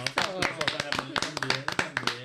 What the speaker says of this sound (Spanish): Pido un aplauso para Noel Montero.